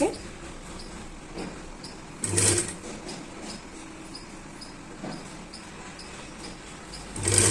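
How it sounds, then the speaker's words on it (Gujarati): A sewing machine stitches a katori-style blouse in soft, intermittent bursts. Short, faint runs of the needle sit over a quiet room background. "આ રીતે હવે આપણે સિલાઈ કરી લઈશું"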